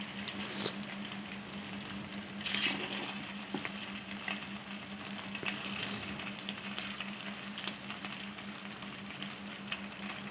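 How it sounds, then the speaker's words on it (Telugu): Chicken pakora bubbles and sizzles in hot oil, a steady close crackle with scattered pops running throughout, with no voices. "మనము చికెన్ వేసేసుకుందామని పకోడీ ప్రిపేర్ చేసుకుందాం అన్నిటిని వేసేసుకోవాలి"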